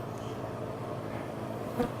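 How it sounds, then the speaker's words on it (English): Bees buzz inside a wall where a hive has lived for over a year, a faint, steady hum under low background noise, with one slightly louder buzz near the end. "We're taking care of some bees this afternoon"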